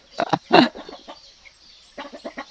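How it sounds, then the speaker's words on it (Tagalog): A large brooding hen clucks nearby in short, low bursts: a few quick clucks, a pause, then another rapid run of clucking. "Yan yung malaking breeding ng manok na kasalukuyang naglilimlim"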